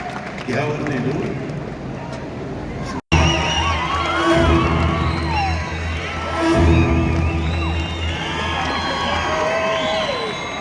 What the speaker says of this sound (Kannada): ಈಗ ನೀವು ಕೊಡೋ ಚಪ್ಪಾಳೆ ನಮ್ಮಿಬ್ಬರ ಮದುವೆಗೆ ನೀವು ಹಾಕಬೇಕಾಗಿರೋ ಅಕ್ಷತೆ